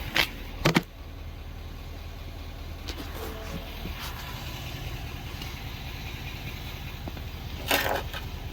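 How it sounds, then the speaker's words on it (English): A car engine idles and the vehicle rolls forward and back while snow tire chains are being fitted, a steady low mid-range engine hum running throughout with a couple of brief louder bumps near the start and end, no talking. "So what I do is I just drive forward and back a couple times."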